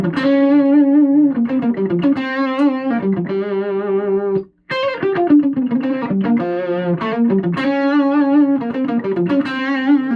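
A loud, distorted electric guitar plays a sustained lead line with bent, held notes and heavy effects, briefly dropping out before continuing, no voices.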